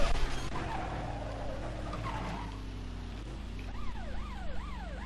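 A wailing police siren in the video game Carmageddon sweeps up and down in rising and falling cycles over a steady engine drone, with a tire skid early on.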